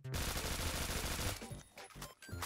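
Rapid automatic fire from a Honey Badger rifle in the video game Phantom Forces rattles in a dense burst for over a second, then trails off into a few scattered, quieter shots.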